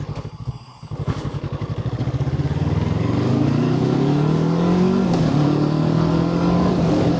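A JEDI NK333 twin sport motorcycle pulls away on a test ride, its engine idling with a rapid thump before revving up and climbing steadily in pitch as it accelerates, close and loud.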